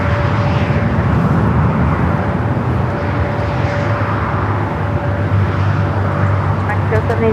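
An Austrian Airlines airliner departs LAX bound for Vienna, its steady broad engine roar loud and continuous throughout, with a faint tonal whine riding on top and a voice talking over it.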